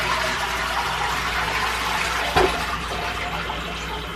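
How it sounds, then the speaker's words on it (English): Toilet flushing in a Japanese apartment bathroom, a steady close rush of water with a brief clunk partway through as it keeps running. "So basically when you flush,"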